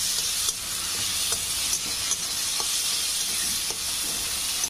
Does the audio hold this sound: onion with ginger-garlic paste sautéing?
yes